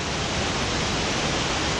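A mountain waterfall beside the rough off-road route from Killar to Chamba pours out a steady, loud broadband rush that does not let up, with no other sound standing out above it.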